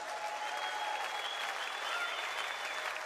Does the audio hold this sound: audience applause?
yes